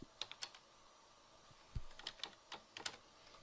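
Light, scattered clicks of typing on a computer keyboard, a few quick keystrokes in small bursts separated by pauses, quiet and close in a still room.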